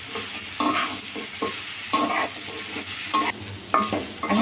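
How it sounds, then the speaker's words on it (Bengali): Small potato pieces fry in hot oil in a pan, giving a steady bright sizzle broken by periodic scraping stirs, close and alone with no talking. "এখন আমি আলু আলু ছোট ছোট টুকরা টুকরা করে কেটে রাখছি এইভাবে এখন এটা দিয়ে দিব এটা কিছুক্ষণ ভাজতে হবে"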